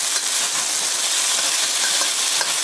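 Beef sizzles as it is stir-fried in a pan with ginger and garlic, a loud close crackling hiss with occasional scraping stirs and no talk.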